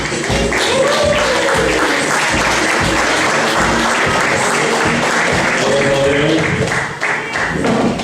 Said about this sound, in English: Give it up for Vincent Schultz.